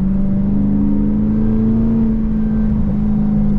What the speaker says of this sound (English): I hope the GoPro is catching the fucking burbles